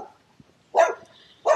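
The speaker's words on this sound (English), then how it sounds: "That's his dog." A dog gives two sharp barks about three-quarters of a second apart, fairly close and loud against an otherwise quiet outdoor background.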